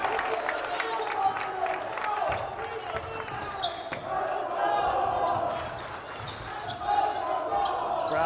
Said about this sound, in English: Crowd coming to life.